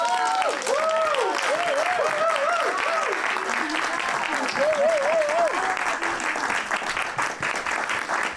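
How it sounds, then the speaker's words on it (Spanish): An audience applauds at a tribute during a theatre book fair in Bogotá, with dense sustained clapping throughout and a voice carrying over the applause. "se merecen aplausos."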